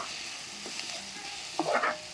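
Prawns and spinach fry in a pan with a continuous close hiss, and a brief louder sizzle or stir near the end.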